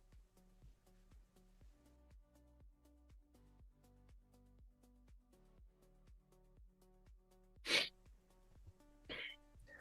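A loud, sharp human sneeze bursts out near the end, followed shortly by a smaller second one, over soft, steady rhythmic background music.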